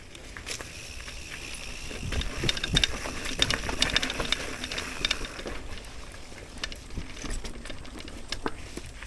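A mountain bike rattles and clicks while being ridden, with irregular rapid ticking and loose mechanical chatter running continuously over rough trail noise.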